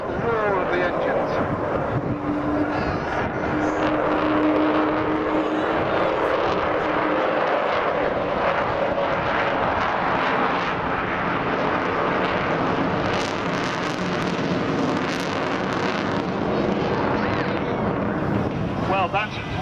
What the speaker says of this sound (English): that howl that you heard is the famous Vulcan howl